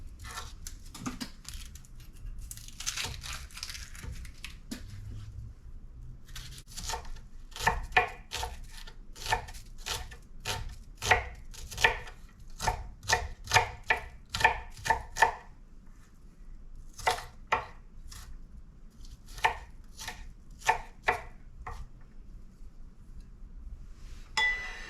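Half an onion chopped with a knife on a cutting board, a run of crisp, evenly spaced knife strikes, close and clear, with a pause before the chopping resumes.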